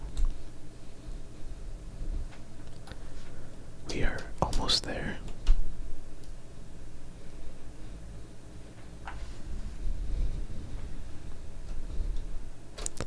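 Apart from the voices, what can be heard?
removing keycaps from a computer keyboard while cleaning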